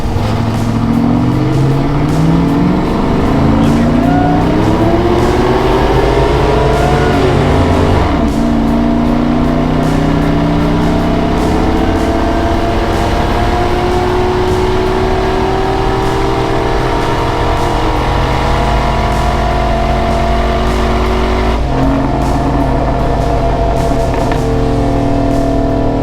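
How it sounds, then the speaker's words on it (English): A car accelerates hard and loud, its engine climbing steadily to the rev limiter before each gear change, with two clear shifts breaking the sustained roar; no voices. "I may run this to the rev limiter each shift"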